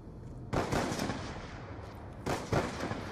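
Sniper rifle fire in Black Ops 2: two loud, close gunshots about two seconds apart, each with a short rolling echo, and no talk.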